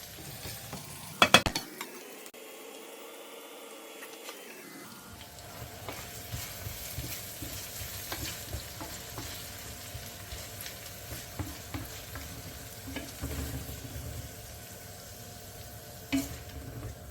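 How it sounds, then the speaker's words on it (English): Beef for boeuf bourguignon fries in a frying pan with a low, steady sizzle and occasional utensil knocks and scrapes, after a brief clatter at the start, close and moderate in level with no talking. "Just let it roast, fry for 1 minute, and then it's ready to go into the pot."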